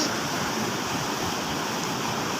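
Strong river current rushing steadily with a broad, continuous roar of water, loud and close with no gaps.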